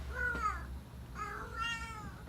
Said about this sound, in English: Next, we have Gabriella Velardi-Ward and her cat's desperate search for her buddy, Charlie, no relation to me